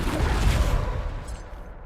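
A Bombarda blast spell goes off in Hogwarts Legacy, a dense booming explosion with heavy low rumble that swells near the start and then fades into crackling debris over about two seconds.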